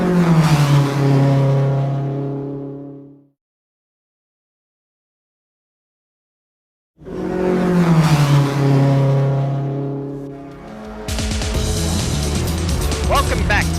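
Race car engines in Gran Turismo 7 during a Nation Cup round at Circuit de Le Mans rev loudly in two long, droning bursts split by a few seconds of silence, and a rougher, noisier mix joins near the end.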